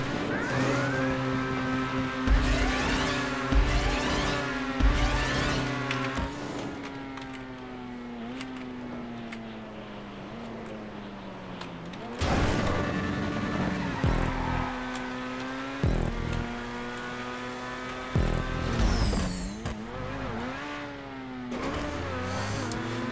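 Car engine in GTA 5 Online racing around a track, revving hard with rising and falling pitch sweeps through gear changes, loud and continuous, with brief tire squeal near the end and no talk.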